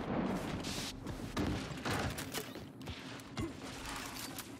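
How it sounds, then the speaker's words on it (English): Gunfire in the third-person shooter game Gears 5, a series of sharp shots and mechanical clanks spaced irregularly over a busy, rumbling battle background, moderately quiet overall. "This guy's shooting back."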